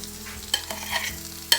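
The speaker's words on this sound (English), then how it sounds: "we'll give them a good mix around" Small button mushrooms are mixed around in a frying pan, giving a brief close scrape-and-clatter of stirring over a faint sizzle, with a couple of sharper knocks.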